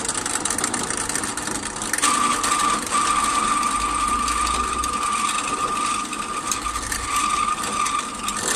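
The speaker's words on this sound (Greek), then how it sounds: "Δεν ασκώ πολύ πίεση στο δράπανο, ίσα ίσα που το ακουμπάω." Electric drill run with light pressure while setting engine valves with a cup tool, a steady high whine with a sustained tone holding for several seconds over a constant mechanical hum.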